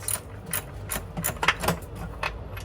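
Repeated ratcheting clicks come in quick bursts while bolts are loosened on a jeep transmission in a garage, heard fairly close and moderately loud with no voices.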